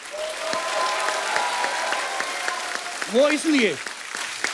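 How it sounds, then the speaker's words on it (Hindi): Studio audience applause on a Hindi comedy talk show, a steady loud wash of clapping throughout, with someone speaking briefly over it and a swooping musical stinger near the end. "अजय सर के लिए एक बार जोरदार तालियां बनती हैं।"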